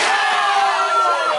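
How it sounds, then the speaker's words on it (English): A wrestling crowd roars and cheers at forearm smashes in the ring, producing a dense, loud, sustained wall of voices with shouting that holds steady from start to end. "The crowd going crazy for those forearm smashes"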